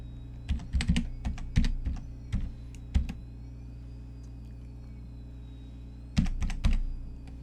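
A computer keyboard being typed on as a password is entered: two quick bursts of crisp, close keystrokes separated by a few seconds of quiet, with a low steady hum underneath.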